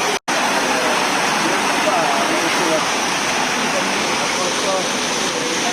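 Water fountain splashing steadily in a public square beside the fish market at Piazza Duomo in Catania, a constant broadband wash of falling water heard close and loud throughout.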